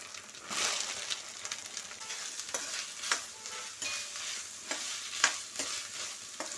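Onions frying in a pan after ginger garlic paste, for restaurant-style dahi aloo: continuous soft sizzle broken by frequent spatula stirs and scrapes, fairly quiet and close, with no voices.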